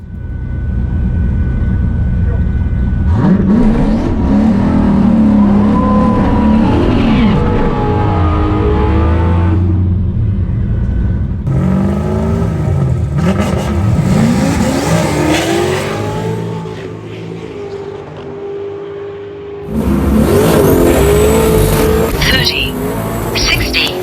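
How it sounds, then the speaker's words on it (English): A drag race car with a new Holley setup roars and accelerates hard in a long, loud engine pull, fading off before a second burst of revving near the end, with a person talking over part of it. "We ended up racing our neighbor in the pits, Chris Welch."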